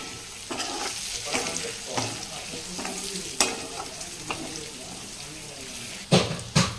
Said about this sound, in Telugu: ఇప్పుడైతే ఆనియన్ వేసుకుందాం